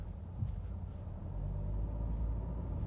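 Steady low interior road rumble and tyre noise inside a 2019 Honda HR-V Sport 2WD driving over a rough, bumpy surface near a bridge construction zone, continuous and moderately loud with no talk.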